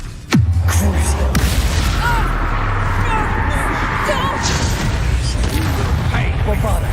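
Casting the explosive spells Bombarda and Confringo in Hogwarts Legacy brings a sudden loud boom near the start followed by sustained rumbling and crackling combat effects, with a voice talking over it.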